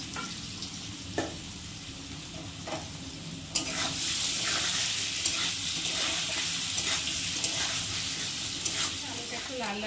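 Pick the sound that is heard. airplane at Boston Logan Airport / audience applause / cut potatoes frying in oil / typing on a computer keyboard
cut potatoes frying in oil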